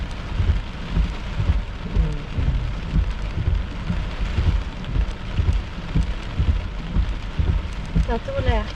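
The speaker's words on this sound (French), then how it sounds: "C'est un petit peu de pluie." Steady rain falls during a summer thunderstorm, with continuous rumbling thunder low underneath and a few faint voices near the end.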